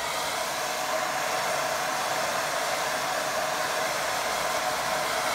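A hair dryer blows continuously at close range, a steady loud whoosh used to dry a wet watercolour painting of a windmill.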